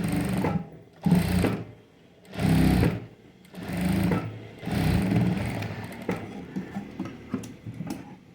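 A sewing machine stitches piping onto a princess-back blouse in several short bursts separated by brief pauses, with the whirring run growing steadier and lighter toward the end.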